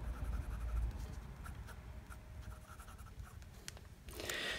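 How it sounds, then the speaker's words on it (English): A fountain pen with a right-foot oblique medium italic nib scratches across paper in faint, short strokes, quiet and close, ending in a brief brighter rustle. "you're getting some nice shape from the writing on this nib"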